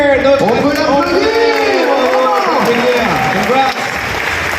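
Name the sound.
audience applause at gaming event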